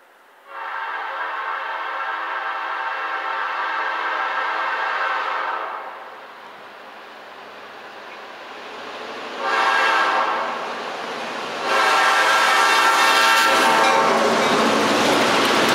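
A Boston-bound freight gravel train passes through snowy northern New Hampshire, its loud locomotive horn sounding long sustained blasts over a steady rumble of rolling cars and wheel clatter, close and building in intensity.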